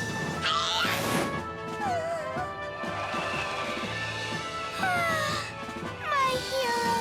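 Cartoon cat meowing amid busy animated action, several rising and falling cries over music and clattering effects, with voices around it.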